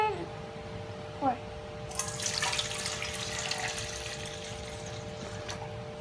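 Water pours into a bowl of puto batter while making colourful steamed rice cakes, a splashing trickle that starts partway through and runs on under nearby voices talking.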